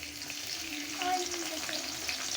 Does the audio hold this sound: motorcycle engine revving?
no